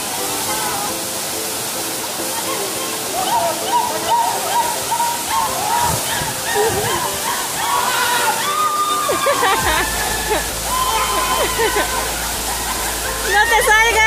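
The Cascada de la Burbuja waterfall at a forest campsite roars steadily and loudly, with splashing and sloshing water close by while people talk and shout over it.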